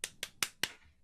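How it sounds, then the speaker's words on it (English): Three sharp hand claps spaced evenly apart, with a fourth fainter clap-like hit at the end, close and fairly quiet in an otherwise still room. "3 claps for Modern Warfare"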